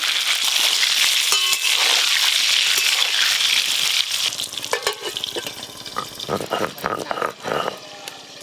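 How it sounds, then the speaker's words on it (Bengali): Washed potatoes fry in mustard oil with salt, a loud dense sizzle for the first half that gives way to clattering stirring and softer crackle, with voices talking nearby. "সরষের তেল, ওই ধুয়ে রাখা আলুগুলো লাল লাল করে ভেজে নেব, লবণ"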